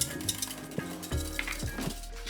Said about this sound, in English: Stir it very well.